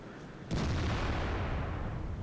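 A tank cannon fires in World of Tanks from an AMX AC mle. 1948 tank destroyer: one sudden, loud blast followed by a long, heavy rumbling boom that fades slowly.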